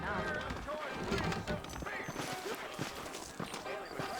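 Horse hooves clip-clop in the Red Dead Redemption video game, a quick, even run of light knocks under a busy mix of game sound and a voice talking over it.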